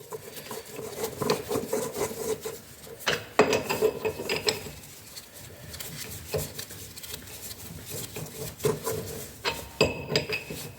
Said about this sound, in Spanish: ya con la llave, que me será más práctico, los entro a tope